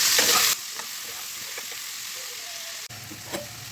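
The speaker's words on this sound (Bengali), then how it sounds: "হাই ফ্লেমে ভাজবো" Potatoes fry on a high flame in a pan: a loud burst of sizzling at first, then a steadier, quieter hiss with occasional stirring clinks.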